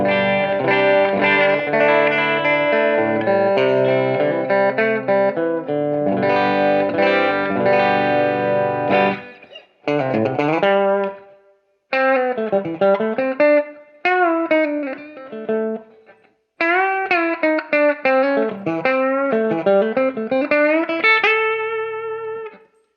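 Semi-hollow ES-335-type electric guitar on the bridge pickup played alone, starting with bright strummed chords, then bent single-note lead lines with short pauses between phrases.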